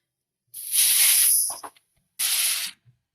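Grated carrots dropped into hot ghee in a kadhai give a loud, bright sizzle that surges for about a second, fades with a few crackles, then flares again in a second burst.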